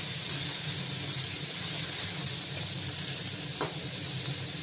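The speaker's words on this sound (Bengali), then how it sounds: "মাছ ভাজা হয়ে যাচ্ছে" Hilsa fish fries gently in a pan of oil with a continuous close, soft sizzle and hiss, steady throughout with one brief pop.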